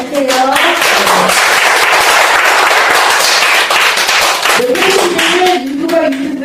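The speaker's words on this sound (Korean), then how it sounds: "박수 한번 더 주세요." Audience applause at a Korean awards ceremony, loud and sustained across the clip, with harmonic tones at the start and end that suggest speech or music mixed in.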